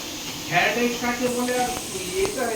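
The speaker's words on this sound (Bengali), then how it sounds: "এখন এখানে গাজর ভাজা হচ্ছে" Carrots fry in a pan for fried rice in a home kitchen, a steady close hiss and sizzle running throughout while voices talk and tonal sounds rise over it.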